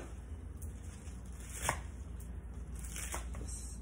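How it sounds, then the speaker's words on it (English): A knife chopping kale leaves for a salad on a cutting board, soft quiet cuts, a few sharper strikes standing out, with no voices over it. "Cut it up into smaller pieces, chop it up."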